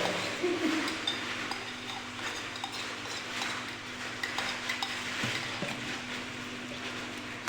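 A spatula stirs garlic, ginger and flour in a cooking pan, giving a steady scraping and stirring with light metallic clinks, close and continuous, with no talking.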